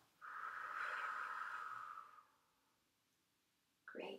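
A child doing a kids' yoga breathing exercise lets out one slow, steady breath lasting about two seconds, airy and close, before a short quiet gap and a brief sniff or inhale at the end.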